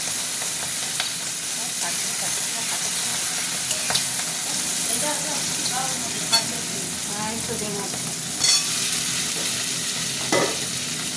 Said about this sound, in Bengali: কড়াইতে দিয়ে আর আলু দিয়ে দিলাম